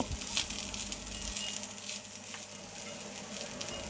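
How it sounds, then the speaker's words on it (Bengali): Leftover rice fries in a pan with spices, giving off a quiet, steady sizzle with scattered crackles and an occasional scrape of stirring. "এই সময়টাতে কিন্তু ভাত থেকে সুন্দর একটা শব্দ বের হচ্ছে"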